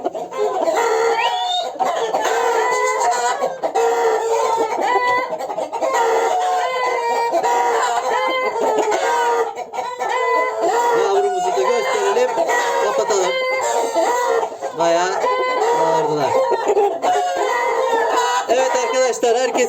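Loud, busy poultry sounds with clucking and crowing roosters carrying on continuously, with some voice-like calls mixed in.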